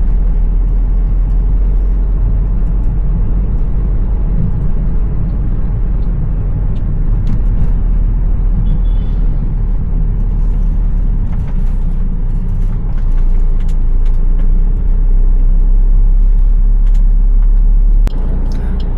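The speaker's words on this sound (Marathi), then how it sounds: "इथे जाम लागलाय." A night-time traffic jam near Baga Beach in Goa, with cars and buses producing a loud, continuous engine rumble and whir, plus occasional passing vehicles and brief sharp sounds.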